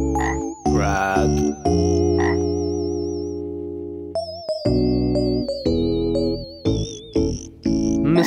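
A frog croaks in a children's story about a frog by a pond. The loud, stylised, warbling croaks come in bursts, some drawn out and others short and choppy, with no talking over them.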